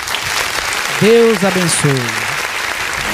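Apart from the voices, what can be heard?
applause in church service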